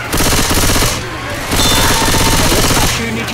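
Rapid automatic gunfire from Left 4 Dead 2 on the Dark Carnival campaign, with teammates shooting each other: two long, loud, dense bursts of shots separated by a short lull, then a third burst starting at the end.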